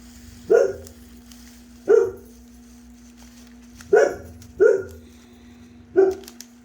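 A dog barks five times in sharp single woofs spaced about a second or two apart, fairly close and loud against a steady background hum, with no talking.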